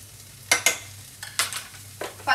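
Ginger and garlic sizzle in a pan of hot oil while a spatula scrapes and stirs in several short, close strokes over a low steady frying hiss.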